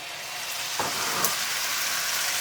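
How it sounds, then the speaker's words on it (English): Onions frying in hot oil for a saag aloo spinach and potato curry, a steady close crackling sizzle with a couple of brief stirring clatters, no talking. "Hot oil, onions frying away."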